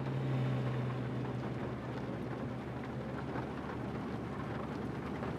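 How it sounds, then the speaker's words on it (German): Steady rain pours in Euro Truck Simulator 2, a continuous broadband hiss over a low droning truck engine hum that holds throughout, with no talking. "So, jetzt regnet es wieder schön."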